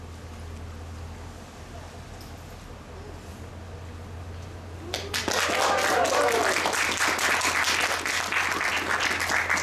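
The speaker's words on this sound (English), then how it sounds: "I can tell by your somewhat unenthusiastic and scattered applause that you were not very impressed by that trick" Scattered audience applause at a magic show starts abruptly after a quiet stretch, a thin spread of claps from a modest crowd that continues steadily to the end.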